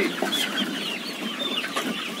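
Chickens in a large poultry house cluck and chatter continuously at close to moderate distance, a busy flock murmur with occasional sharper clucks and no speech.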